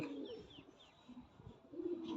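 Soft low pigeon coos repeat a few times, close and quiet, as pigeons bathe on a rooftop, alongside faint rustling and brief higher chirps.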